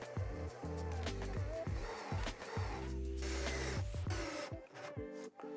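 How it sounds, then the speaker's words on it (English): Screws are driven into the runner of a Vauth Sagel VS SUB larder cabinet unit, heard as several close bursts of a driver whirring and grinding, with short pauses and clicks between them. "you then can start putting in the screws"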